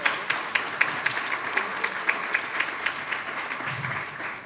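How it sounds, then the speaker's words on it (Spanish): Audience applause for guest artists at a café talk event, a steady dense clapping from a crowd that carries on throughout without anyone speaking. "Un aplauso para ellos."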